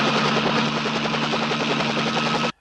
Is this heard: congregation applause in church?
no